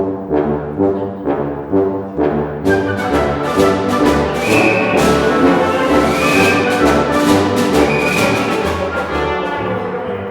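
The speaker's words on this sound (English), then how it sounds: "The tuba is very well known for its famous solo, which sounds like this." Tuba playing a solo in an orchestral symphony setting, loud, low, separate notes in a steady melodic line, with brighter accompanying accents and occasional high chimes joining partway through.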